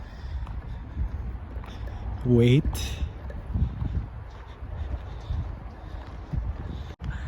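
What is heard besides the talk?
strong wind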